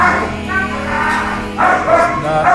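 A big shelter dog barks repeatedly in a loud, close series of deep woofs and yips, the barks clustered in two bursts within a noisy kennel setting.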